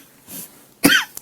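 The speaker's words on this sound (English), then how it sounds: "A lingering cough." A single sharp cough rings out close up, preceded by a faint breath, with brief quiet clicks just after.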